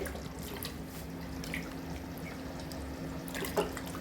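Soaked tender mangoes are washed in water for a dry mango curry, a faint, steady trickle and gentle splashing in a kitchen, with a small slosh near the end and no talking.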